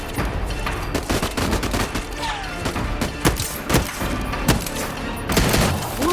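Repeated shotgun blasts and other gunfire in the Voidtrain video game, a dense run of sharp, close shots with thumps in between, no speech over them.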